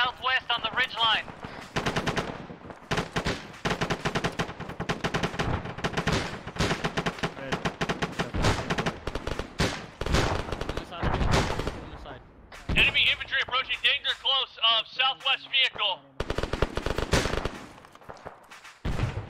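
Grenade machine gun fire in the military game ARMA comes as dense, repeated bursts of booming shots and impacts over nearly twenty seconds, with brief lulls and bits of tonal game sound between volleys.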